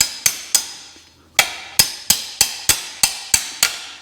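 Hammer blows ring out on the tailshaft bolts of a T5 transmission, about eleven sharp metallic strikes, the first few spaced out, then a quicker steady rhythm, loud and close with short ringing decay.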